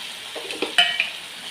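Spicy chicken curry being mixed in a kadai with chili powder, masala and salt: a few soft scrapes and a bright metallic clink of the spoon against the pan over faint sizzling, no talk.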